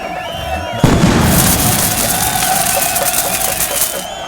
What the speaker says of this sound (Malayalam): വെടിക്കെട്ടൊക്കെ മതി.